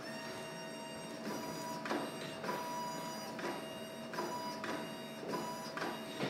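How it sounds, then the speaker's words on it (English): Cox chiropractic traction table lengthening, a quiet mechanical whir with a rhythmic series of clicking pulses and steady high tones, playing on its own in a treatment room. "And that noise you hear is the table. You see how the table's lengthening?"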